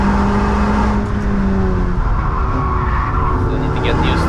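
VW Polo GTI braking hard on the Nürburgring track, loud continuous engine and tyre roar with a squealing, skidding edge, recorded close from inside the car.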